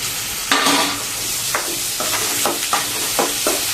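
Onions with curry leaves, green chillies and chana dal sauté in oil with a bright, constant sizzle, while a spoon scrapes and taps the pan in quick repeated strokes, close and loud, without any voice.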